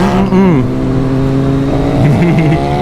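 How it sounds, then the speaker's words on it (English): A motorcycle revs hard on a canyon road while its tires are warmed up, the sustained engine note rising and falling close and loud throughout with a voice heard over it. "Warming up the tires, smart."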